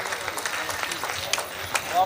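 An audience applauds at a Hindi comic poetry gathering, a steady round of many hands clapping, fairly close and even, with a voice briefly heard over it.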